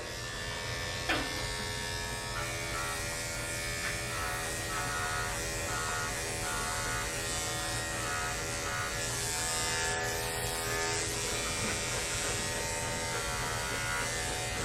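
Electric clippers fitted with a 10 blade shaving a husky, giving a steady close-up motor buzz that runs unbroken throughout, with a faint shift in pitch as the blade moves through the coat.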